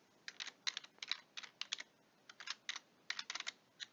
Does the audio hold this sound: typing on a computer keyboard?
yes